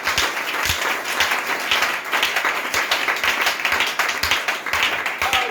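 A church congregation breaks into loud, dense applause, rapid overlapping claps sustained throughout with a few sharper accents, close and energetic, no voices standing out.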